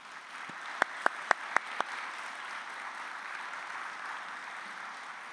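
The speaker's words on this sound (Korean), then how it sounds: "박수로 환영해 주십시오." A church congregation applauds to welcome visiting students from Thailand, a few sharp, separate claps near the start followed by a faint, steady patter of clapping.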